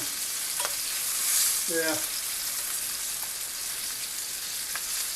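Chicken pieces browning in a frying pan for chicken cacciatore give off a steady, dense sizzle that holds close and even throughout, with a brief spoken word near the start.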